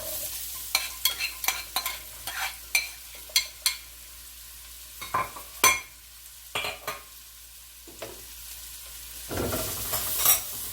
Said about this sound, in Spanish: Y vamos a mezclar. Vamos a esperar un ratito en lo que se pone transparente la cebolla y también la zanahoria se suaviza un poco